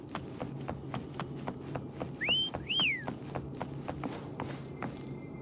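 Two short rising-and-falling whistles ring out over a steady rhythm of hoofbeats clip-clopping along at a walk, in the video game Wuthering Waves.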